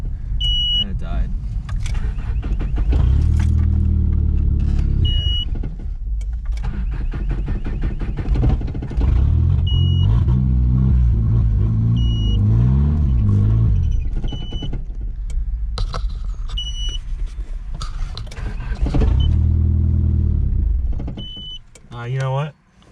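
A Chrysler Conquest's engine idles and then cuts out as it runs out of gas, its steady hum running under people talking until it drops away near the end.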